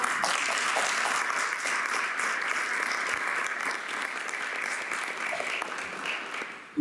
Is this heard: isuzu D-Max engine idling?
no